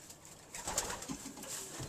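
Young pigeons cooing softly at close range, a continuous low murmur of overlapping coos with a few brief sharper calls, with no talking.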